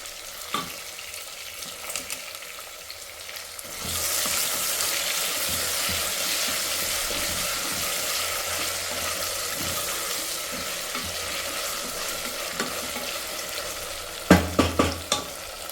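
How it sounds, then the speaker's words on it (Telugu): Radish pieces fry in oil for a sambar, a steady sizzle that swells louder after a few seconds and holds, with a few sharp clinks of stirring near the end. "ముల్లంగి కూడా వేసేసి ఫ్రై చేసేస్తున్నాను ఆయిల్లో"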